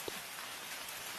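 Steady rain falls in an even, hissing wash of drops with no breaks, calm and constant at low volume.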